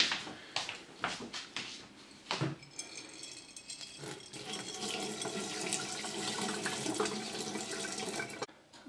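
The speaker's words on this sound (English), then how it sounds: "So now I'll just pour this water away." Water pours and splashes out of a container as it is drained off soaking canna seeds, starting with a few short clinks and trickles, then a steady gushing stream draining for several seconds.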